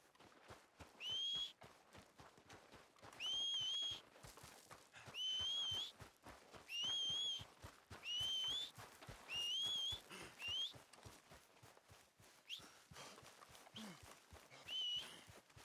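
Whistling for a horse in the Red Dead Redemption 2 video game: a run of short rising whistles repeated roughly every two seconds, over steady clip-clop hoofbeats and footsteps, fairly faint overall.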